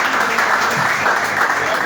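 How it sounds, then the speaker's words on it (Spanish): A church congregation applauds during a sermon, with a short burst of continuous clapping at close range. "le damos un fuerte aplauso a todas las personas que nos están viendo"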